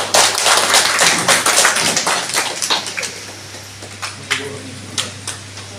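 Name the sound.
audience applause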